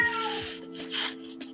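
A house cat meows a few times close by, short nasal calls rising over a steady, tonal background hum.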